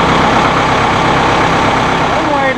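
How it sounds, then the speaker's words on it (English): A Massey Ferguson tractor fitted with a front loader runs close by, its engine giving a loud, steady, low rumble with no break. "We started the tractor."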